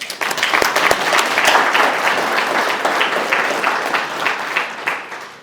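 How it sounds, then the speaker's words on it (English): Sustained applause from an audience at an evening Hall of Fame gala, dense clapping filling the room steadily for the whole stretch before tapering slightly at the end. "Let's give them a round of applause"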